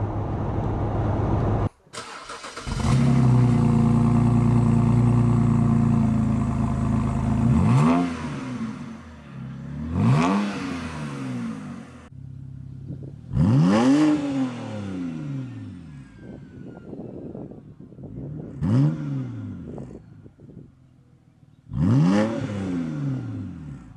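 A BMW 128i with a muffler-delete exhaust starts up and idles, then revs hard about five times. Each rev rises and falls as a loud, raspy roar between quieter idle stretches.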